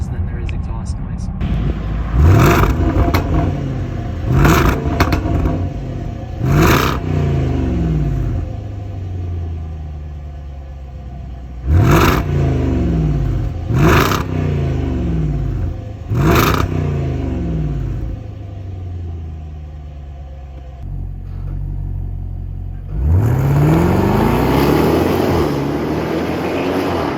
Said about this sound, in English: still a fairly muted exhaust sound